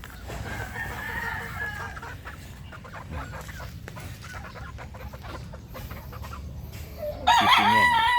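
Several roosters crow loudly over steady background clucking, with a final near crow breaking out sharply toward the end.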